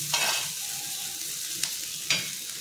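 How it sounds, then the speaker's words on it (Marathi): Okra stir-fried with onions in a pan, a soft steady sizzle with a few scraping stirs of the spatula, close and fairly quiet. "कांद्यात आपण ही व्यवस्थित अशी भाजी परतून घ्यायची"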